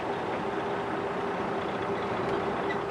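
A manual transmission truck pulls away slowly to about five miles per hour, its engine holding a steady, fairly loud drone with a faint tonal hum, heard from inside the cab without talk.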